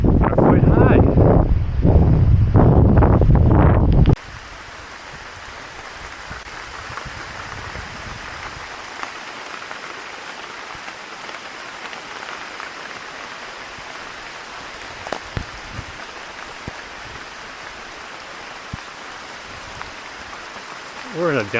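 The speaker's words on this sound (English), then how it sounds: "We're in a downpour?" A downpour of rain on a mountain trail in Makiki Valley. A few seconds of loud, buffeting wind-like noise on the microphone give way to a steady, even hiss of rain.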